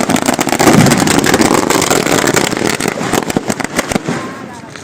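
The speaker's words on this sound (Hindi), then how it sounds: "चेतन का सिलेक्शन होने पर दुमका के LAJ कैंप क्रिकेट अकादमी के खिलाड़ियों ने आतिशबाजी करके खुशी व्यक्त किया है।" Fireworks set off by cricket academy players celebrating in Dumka crackle and pop in dense bursts, loud and close, over a busy background with voices and some engine noise.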